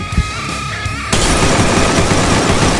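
Rapid automatic gunfire in the Free Fire battle royale mobile game, a sudden loud continuous burst of shots after a quieter second of game sounds.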